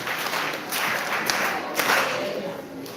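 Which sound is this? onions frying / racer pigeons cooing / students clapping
students clapping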